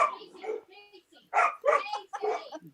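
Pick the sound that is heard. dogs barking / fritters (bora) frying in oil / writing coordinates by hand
dogs barking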